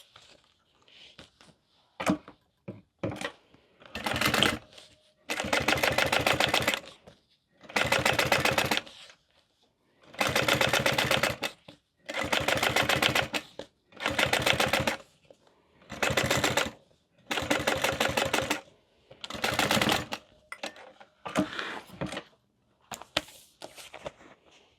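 A sewing machine top stitches the folded fabric lining panels of a crossbody bag, running in about nine short, quick bursts of rapid rhythmic stitching separated by brief pauses, fairly quiet and close.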